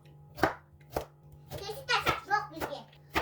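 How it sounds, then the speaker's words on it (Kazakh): A knife chops carrots into rounds on a board for a Kazakh potato soup: a handful of sharp, separate strikes, close and fairly loud, with children's voices talking in between. "Сәбізді осылай дөңгелекше етіп құрасаңыздар өте әдемі көрінеді."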